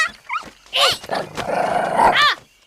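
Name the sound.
dog growling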